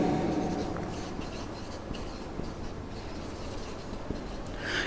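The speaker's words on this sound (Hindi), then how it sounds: "तो मैं लिख देता हूँ क्रिस्टलाइन नेचर" Steady scratchy writing on a board in a chemistry classroom, a continuous soft rubbing and scraping close by for several seconds, with no talk over it.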